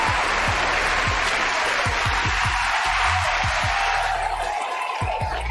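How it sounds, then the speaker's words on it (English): Steady audience applause fills the room while low rhythmic thumps, like music or footsteps, pulse underneath throughout. "I'm gonna give that some applause,"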